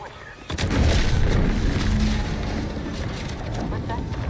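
A deep explosion rumbles in the video game The Outer Worlds 2, hitting with a loud low boom and rolling on as a sustained roar that slowly fades, with no talking.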